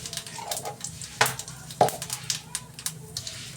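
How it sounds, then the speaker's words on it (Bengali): Cumin seeds tempering in hot oil for a fish curry, giving a soft crackling sizzle with stirring clinks and a couple of sharp louder pops, heard close and fairly quiet. "এই তো জিরে ফোড়ন দিলাম"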